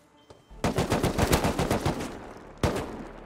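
Automatic gunfire in the survival game Rust, a loud close burst of rapid shots that tails off, then one more sharp shot after a brief gap.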